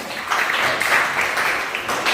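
A classroom of students claps together in a brief burst of applause, a steady dense patter lasting about two seconds.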